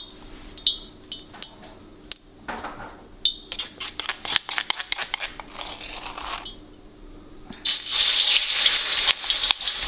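Spice paste of powdered ingredients goes into a wok and starts to sizzle, with clinks and scrapes of utensils before a louder, steady frying hiss rises near the end.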